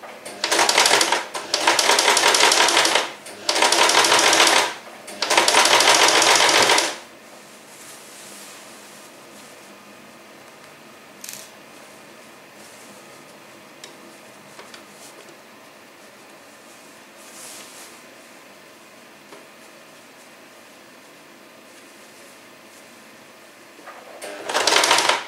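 A sewing machine stitches a semicircular seam on a bed canopy in three loud whirring bursts at the start, then falls quiet with faint rustling before a final short burst near the end.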